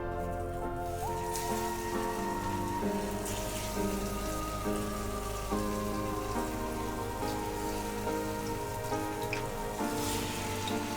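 Arbi leaf pieces sizzle in hot mustard oil with a dense, continuous crackle like rain, steady and fairly quiet, with no voices.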